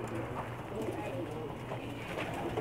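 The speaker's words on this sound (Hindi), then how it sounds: "ये अभी मैं आपको करीब से दिखा रहा हूँ कबूतर।" Pakistani racing pigeons coo softly up close on a rooftop in Jeddah. Low, repeated throaty coos sit under ongoing conversation.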